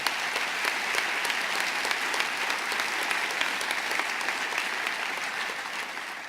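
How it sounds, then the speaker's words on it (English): Audience at a state government announcement event applauding steadily for several seconds, a dense, even wash of clapping that tapers slightly at the end. "Let's give them a round of applause and thank them."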